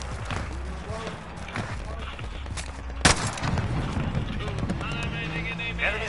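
Gunfire rattles in a shooter video game, mixed bursts and single shots with one loud sharp crack midway, close and fairly loud, while players talk over the action.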